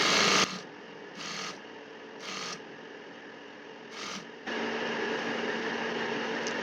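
A sewing machine stitches along a fabric edge while a culotte trouser is being made. It runs in short mechanical whirring bursts separated by pauses, then settles into one longer continuous run close by, with no talking.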